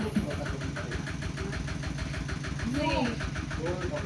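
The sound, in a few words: tractor engine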